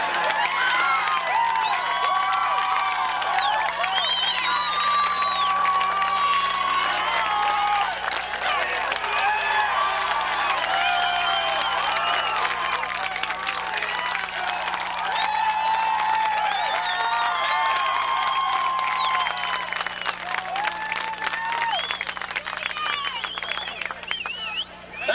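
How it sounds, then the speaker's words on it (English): Sustained applause and cheering from a live show audience at Darien Lake, a dense steady wash of clapping and crowd noise that holds for the whole stretch without letting up. "if you applaud for another minute and a half, we all go home now"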